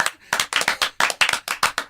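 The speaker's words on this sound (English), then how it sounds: "Can we do a slow clap?" A small group claps in a deliberately slow rhythm on a podcast set, with about a dozen sharp, close hand claps arriving in a steady, loud beat that picks up slightly toward the end.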